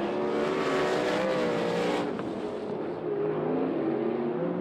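Sprint cars in an ASCS versus USAC dirt-track heat race roar loudly and continuously as engines rev hard down the back straightaway and into a corner, with no voices heard.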